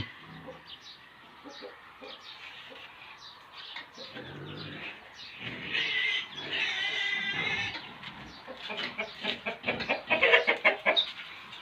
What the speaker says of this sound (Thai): นี่เป็ดกับไก่